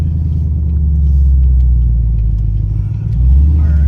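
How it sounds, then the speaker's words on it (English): Loud, steady low engine rumble from a C7 Corvette with a burble tune, idling and revving continuously close by in a parking lot, with a brief dip in the rumble near the end. "all I want to do is just rev it"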